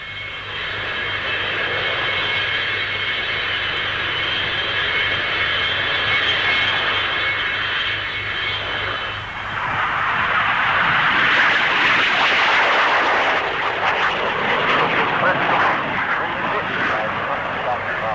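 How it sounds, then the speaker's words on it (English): Mid-century B-2 aircraft roaring down the runway on takeoff, its engine noise swelling as a Napier Scorpion liquid-propellant rocket booster adds thrust; a steady loud roar that surges and broadens partway through, with a narrator's voice running over it. "B-2 takes off with extra boost from a Napier Scorpion rocket engine"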